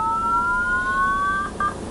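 A phone system's ringtone number 9 plays a weird, siren-like electronic tone: two steady pitched lines glide slowly upward for about a second and a half, then break off and return in a short burst at the end, loud and alone with no talk.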